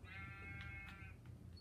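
Sheep bleating in the Minecraft video game, a steady wavering bleat lasting about a second, clear and close over a low background hum.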